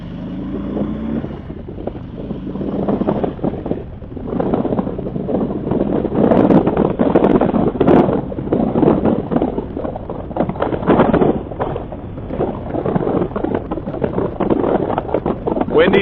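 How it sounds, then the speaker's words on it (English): Heavy, continuous wind buffeting roars across a microphone on a motorcycle ride on the I-70 highway, gusting and thumping unevenly with a low muffled rumble. "Windy day for sure"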